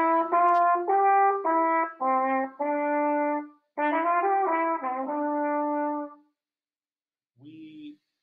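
A trumpet plays a short run of clean, separate notes from bars 25 and 26 of a piece, close and alone, followed by a pause and a brief final tone.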